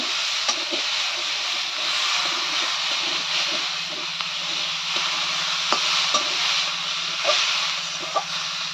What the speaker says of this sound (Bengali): তো এই যে এখন করলা আলু তরকারি করছি।